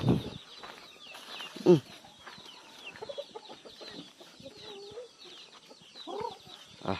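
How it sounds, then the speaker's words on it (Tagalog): Several native chickens cluck and squawk nearby in scattered bursts, with brief talk in the background. "Dami manok oh."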